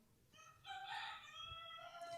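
A rooster lets out one long, drawn-out crow at moderate distance, rising over a steady low background noise and trailing off near the end.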